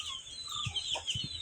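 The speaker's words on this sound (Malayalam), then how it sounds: "ഇത് ഞങ്ങളെ കോഴിക്കുട്ടികളാണ്" Young chicks clucking and peeping nearby, a few soft clucks over a constant high-pitched chirping chorus, fairly quiet.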